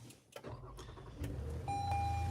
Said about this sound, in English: he loves his car startup, so I'm going to give him one right now